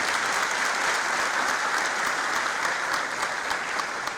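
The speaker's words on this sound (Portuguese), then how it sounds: "Mais uma vez uma salva de palmas." Audience applause at an Angolan Bar Association swearing-in ceremony for its governing bodies, a dense, steady clatter of many clapping hands that holds at full strength for about four seconds without a break.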